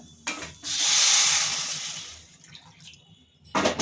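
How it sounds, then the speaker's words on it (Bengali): Spinach cooking water is poured into a pot of simmering matar dal, a rushing, splashing pour of about a second and a half that tapers off into faint clinks before a brief final splash. "আমি এবার দিয়ে দিচ্ছি পালং শাক যে বয়েল করেছিলাম সেই জলটা"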